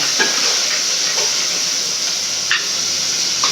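Onions sautéing in a pan as the base for a seer fish curry, a loud steady sizzle broken by a few light taps and scrapes of a stirring spoon.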